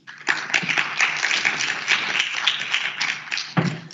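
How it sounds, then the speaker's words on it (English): An audience at a conference applauds, a dense, steady patter of many hands clapping together, close and lively, that carries on without a break to the end. "Let's give another clap."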